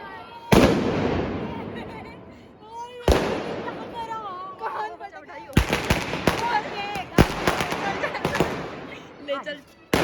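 Diwali firecrackers and fireworks burst loudly around a residential building in sharp, repeated bangs and crackling volleys, some close and some farther off, with people chatting and shouting between the blasts.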